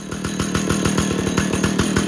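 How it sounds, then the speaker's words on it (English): A Stihl 056 Super chainsaw runs after starting, its engine loud and close with a rapid, steady pulsing throb that holds throughout without voices. "It's fired up on like the third pull."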